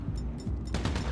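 Rapid bursts of AK rifle gunfire from GTA Online, a loud run of sharp cracks that intensifies toward the end, with game noise underneath and no talking.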